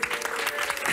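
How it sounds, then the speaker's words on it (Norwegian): Audience applause from a live TV magic performance, a dense, steady wash of clapping that fills the full second at even loudness. "Applaus, Theo."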